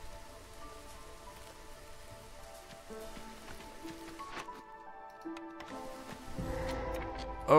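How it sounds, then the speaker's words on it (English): Rain in the Against the Storm video game, called down by a rain totem, patters softly and continuously on surfaces, with drops and faint game sounds layered over it, rising slightly toward the end. "Oh, and a rain totem, nice."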